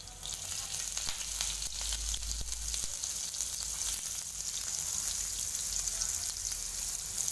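Chopped onion frying in hot oil with green chillies and cumin, a dense, steady sizzle that runs loud and even throughout, with no voices.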